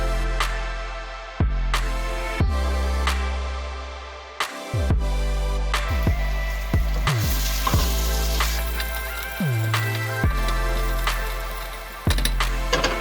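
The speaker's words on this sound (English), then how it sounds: "Add your garlic, continuously stirring until it is fragrant." Garlic sizzles in a hot pan for a meat sauce while being stirred continuously, a steady close fry under a repeated rhythm of sharp, ringing hits every second or so.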